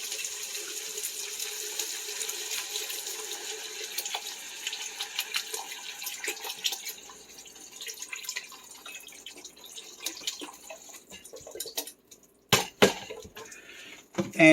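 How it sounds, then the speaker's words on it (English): Vegetable juice pours steadily into a pot of beef soup, a continuous liquid trickle and splash lasting several seconds, followed by a few sharp clunks near the end. "Now I'm going to go ahead and add in the vegetable juice."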